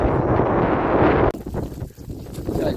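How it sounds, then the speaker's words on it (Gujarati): Strong wind over a farm field roars and buffets loudly, then cuts off abruptly into quieter gusty rustling of leaves. "પવન એવડો બધો ગજબનો છે"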